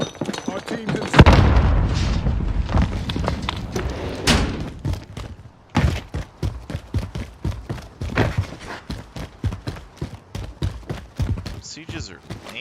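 A frag grenade goes off in a first-person shooter with a loud, heavy boom and a long rumbling tail, followed by a run of rapid sharp gunshots and thuds, with people talking throughout.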